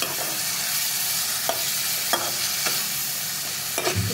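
Tomato being stirred into beef keema sizzling in a pan, a steady frying hiss with a few soft scraping strokes of the spoon, close and clear with no talking.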